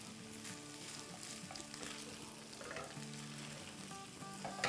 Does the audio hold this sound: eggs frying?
yes